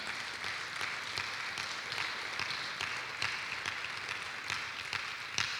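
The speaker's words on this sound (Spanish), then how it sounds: "¿No le dan fuerte aplauso a nuestro Padre Celestial?" Church congregation applauding at a Father's Day service, a steady even wash of many hands clapping with no voices over it, holding at a constant level throughout.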